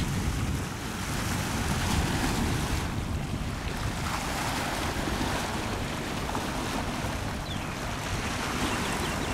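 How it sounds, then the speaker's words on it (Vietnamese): Strong wind and waves batter a boat at sea as a squall moves in, making a loud, unbroken roar of gusts and surging water that fills the whole stretch with no voices. "giờ sao gió nó bê qua tới đây dữ rồi"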